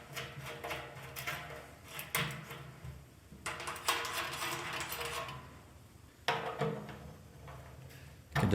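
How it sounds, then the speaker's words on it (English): An Allen key tightens fire pit leg bolts with faint metallic clicks and ratcheting scrapes in short irregular bursts, close but quiet, with no voices. "You can just tighten it snug with your Allen key here."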